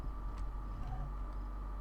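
A Dodge Charger SE engine in BeamNG.drive hums quietly at a steady idle-like drone, low and even like an ordinary car, faint and continuous with no speech.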